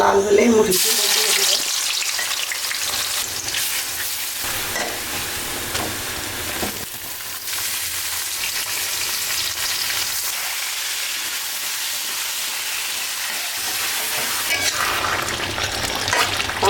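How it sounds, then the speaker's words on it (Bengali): Onions frying in oil on a stove give a loud, continuous crackling sizzle after an initial burst as they hit the pan, steady and close throughout. "চুলায় পেঁয়াজ দিয়ে দিচ্ছি পেঁয়াজটা"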